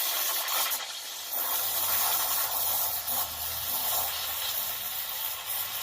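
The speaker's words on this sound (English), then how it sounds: "you'll hear it blowing the bubbles into the milk now" Steady, broad hiss of a stovetop coffee machine's steam wand frothing milk, with a soft bubbling rumble underneath, continuous and close for the whole stretch, no voices.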